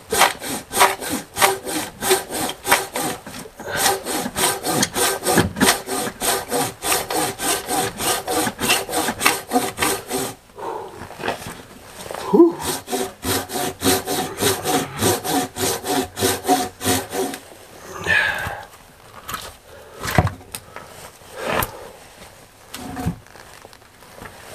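Oak wood being cut by hand with a handsaw, a steady rhythmic back-and-forth rasping that runs for a long stretch close up, then breaks into slower, uneven strokes toward the end.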